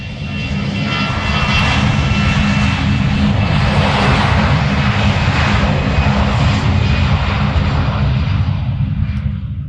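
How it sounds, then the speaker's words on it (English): An airplane taking off, its engines producing a loud, continuous broadband roar that holds steady throughout, with no talking. "I'm going to make you hear what a takeoff sounds like"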